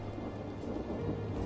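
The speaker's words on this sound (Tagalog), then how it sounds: "umuulan na" Steady heavy rain with a low rumble of thunder underneath, a dense continuous wash of sound with no voices.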